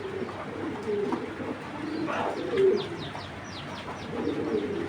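A female Military pigeon coos in soft, low repeated phrases at close range, with a few faint chirps from other birds in the background.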